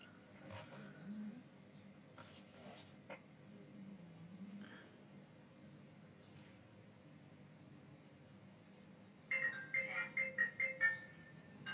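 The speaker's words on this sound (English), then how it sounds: "oh, that's Chuck's phone." A mobile phone ringtone rings in a quiet room, a short series of regular electronic pulses arriving near the end, moderately close over faint background noise.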